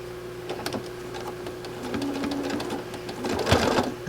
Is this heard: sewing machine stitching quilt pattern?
yes